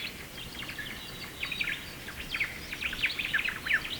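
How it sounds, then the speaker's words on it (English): Rainbow lorikeets in the Australian wild give sharp, high chattering calls and squeaky chirps in rapid clusters, moderately distant and growing busier toward the end, with no voices present. "the rainbow lorikeet."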